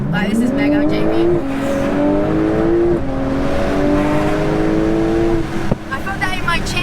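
An 1100 bhp Porsche 911 Turbo S pulls hard through several gears, its loud engine climbing in pitch with sharp shifts between rising sweeps, heard from inside the car with voices over it.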